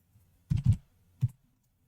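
Typing on a computer keyboard, a quick cluster of two close key clicks followed by a single click after a short pause, otherwise quiet.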